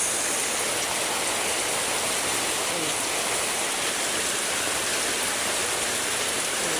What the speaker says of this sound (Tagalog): Lalong lumalakas guys ang ulan